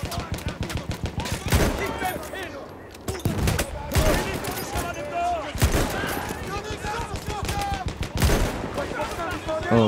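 Battlefield 1 campaign combat: repeated loud bursts of rifle and machine-gun fire with sharp explosive blasts, coming in clusters over a constant din of battle noise.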